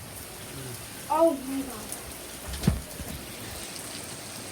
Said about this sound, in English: It is pouring.